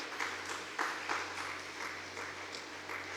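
Faint applause from a congregation at a church service, several soft bursts of clapping over a steady low hum.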